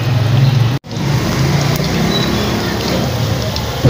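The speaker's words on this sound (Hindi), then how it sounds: "ये देखें राइस ब्रेड कचौड़ी यहाँ पे फ्राई होनी शुरू हो चुकी है।" Rice bread kachori deep-frying in hot oil, a steady dense sizzle and crackle that runs nearly the whole time with one brief dropout near the start.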